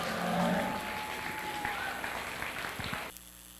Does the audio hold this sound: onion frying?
no